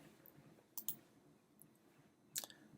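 Two sharp, faint computer mouse clicks sound in a quiet room, one near the start and one near the end, with nobody speaking.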